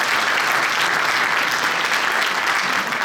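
Sustained, dense applause from an audience at an asphalt and bitumen colloquium award ceremony, steady and loud throughout without pause.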